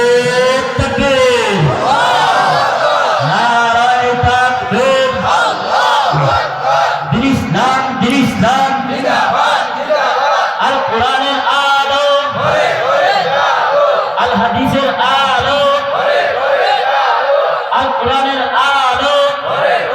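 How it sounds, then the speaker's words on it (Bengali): A large crowd at a religious gathering shouts the takbir in repeated loud, rhythmic chants, voices rising together in waves over a steady roar. "সবাই মুসলমানের মর্দে মুজাহিদের মতো আপনারা তাকবীরের আওয়াজ উঠাবেন ইনশাআল্লাহ"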